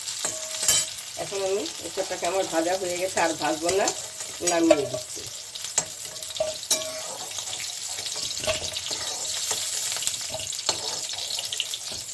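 Young jackfruit (echor) frying in oil for a jackfruit and prawn curry, a close, steady sizzle with stirring scrapes, with a voice talking over the frying for the first few seconds.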